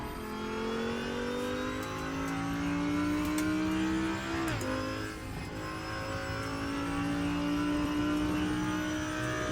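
Loud Audi R8 LMS race engine in the Raceroom racing game revving steadily higher, with a sharp dip at an upshift midway before pulling hard again, alone without voices.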